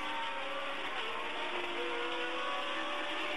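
Formula One race car engine at the 1979 French Grand Prix, a steady high-pitched whine accelerating out of a corner and over a crest, heard continuously at moderate distance with no talk.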